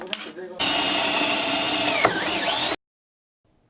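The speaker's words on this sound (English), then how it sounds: "so we marked the center and then drilled a hole" Power drill boring a hole through a wooden shield blank of edge-glued poplar, a loud steady whine of about two seconds that sags briefly under load before cutting off abruptly.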